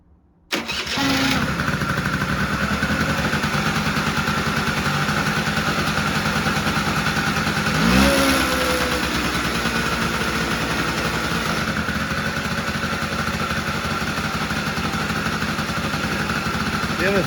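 A 1982 Honda Melody scooter with a fuel system fault starts from cold and settles into a steady, close idle, its motor note running evenly throughout with a brief surge partway through.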